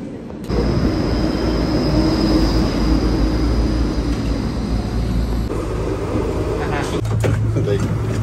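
An underground tram in Antwerp rumbles loudly and steadily through a tunnel, with wheel screech and rattling near the end, heard from inside the car.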